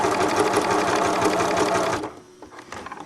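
A sewing machine sews a narrow, fairly long zigzag stitch on stretch fabric, its rapid, even needle chatter running loud and close for about two seconds before it stops abruptly.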